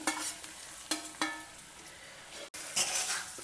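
Potatoes and masalas are tossed with browned dals in a cast iron pan. A spoon scrapes and stirs in short strokes over a soft, steady sizzle, close by, with no talking.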